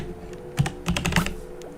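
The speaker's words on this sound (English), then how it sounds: "let's just try typing it in here" Quick keystrokes on a computer keyboard as a code is entered in a video game, with a short burst of clicks close to the microphone and no talk.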